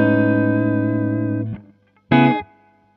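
Dry electric guitar through an amp close-miked with an SM58, reverb low and no delay: a sustained chord fades out, then after a short gap a brief, sharp second strum cuts off cleanly with no echoing repeats.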